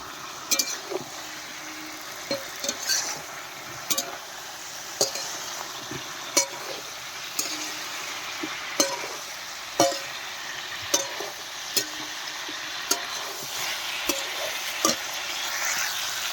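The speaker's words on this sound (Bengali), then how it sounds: "সবগুলো দিয়ে ভালো করে কিন্তু কষিয়ে নেব" Fish head, cauliflower and potatoes sauté with spices in a pan, a steady sizzle punctuated by regular sharp clinks and scrapes of a spatula against metal roughly every second.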